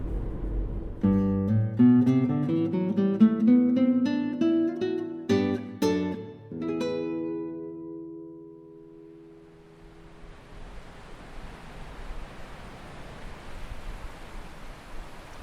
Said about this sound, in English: That's the sound of the River Dee, not the one in Scotland, but another one here in the east of Wales, and it's a raging torrent of a fast-flowing river